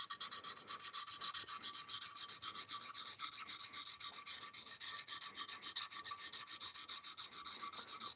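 Chisel sharpened on a sharpening stone in a Katz-Moses Universal Sharpening Jig, a faint, steady rasping scrape in rapid back-and-forth strokes, continuous and close, with no talk.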